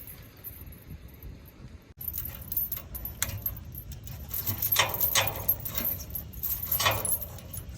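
Old motorcycle chain handled by hand, its metal links clinking and jangling in quick irregular bursts, close and fairly loud.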